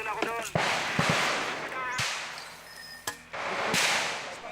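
Gunfire during a 2007 armed encounter in Basilan: several sharp, loud reports spaced across a few seconds over a constant rough roar of background noise, with a voice briefly audible at the start.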